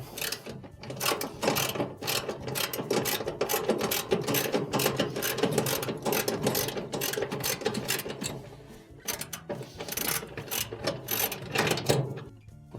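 A ratchet works a 10mm bolt loose from the idler pulley of an LG dryer, giving a continuous dense clicking and mechanical rattle that stays loud throughout with only brief pauses.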